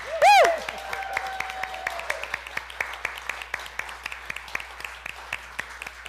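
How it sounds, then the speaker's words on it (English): Clapping from a church congregation, a steady run of separate hand claps that thins out over several seconds, with a brief tonal sound at the start. "Now we can clap."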